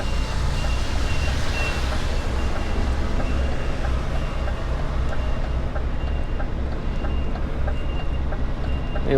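A lorry reversing into a yard, a steady repeating reversing beep over a loud continuous engine rumble heard from close by, no talking.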